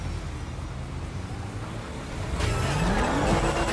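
A car engine in GTA 5 hums steadily, then revs up sharply with a rising whine as the vehicle accelerates, loud and close.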